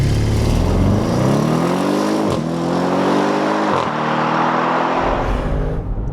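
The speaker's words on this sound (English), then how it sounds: "The sort of acceleration you get from the RS6, it's just nuts." A 605 hp Audi RS6 Performance station wagon accelerating hard, its engine roaring loud and close as the pitch climbs steadily, broken by two quick dips for gear shifts before easing off near the end.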